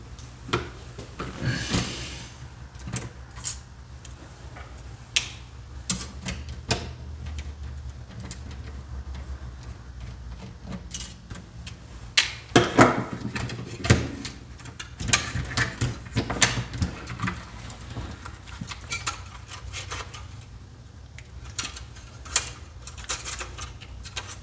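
Screws being removed produce sporadic close clicks, taps and small metallic rattles, with a busier cluster of sharp ticks around the middle and quieter stretches between.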